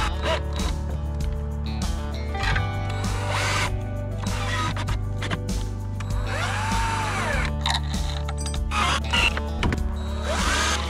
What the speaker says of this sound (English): gonna drill a couple more holes in here that are gonna be smaller than the diameter of those holes